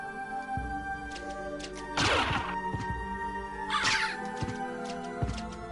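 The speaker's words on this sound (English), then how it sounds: "Another one of those annoying black crows." Black crow cawing in the video game Castlevania: Symphony of the Night, two harsh, loud caws about two seconds apart over steady game music.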